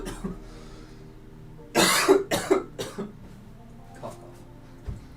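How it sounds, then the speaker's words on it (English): A person coughs close to the mic in a burst of three rough, loud hacks, followed by a softer throat-clearing sound and quiet shuffling. "Cough, cough."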